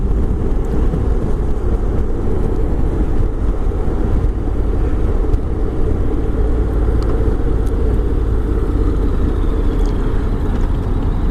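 Honda X-ADV scooter with DCT automatic gearbox riding on an open road, a steady loud engine drone and rolling road roar with heavy wind rumble, continuous for the whole stretch, no voices.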